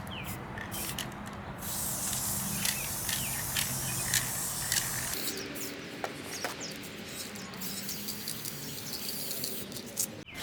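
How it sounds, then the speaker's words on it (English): Black spray paint hisses from an aerosol can in short bursts, with faint bird chirps outdoors in the background. "I'm just going to go ahead and make this a little darker with black spray paint."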